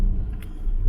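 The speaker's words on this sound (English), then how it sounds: "we'll reverse up against the warehouse door here" A turbocharged Smart car reversing up against a warehouse door, a short, loud low engine rumble close by.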